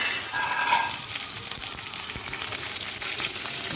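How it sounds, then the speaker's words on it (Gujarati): Steady crackling sizzle of mustard seeds popping in hot tempering oil, continuous and close, with no voices. "તો આપણે વઘાર થાય છે. તો રાઈ થવા માંડે."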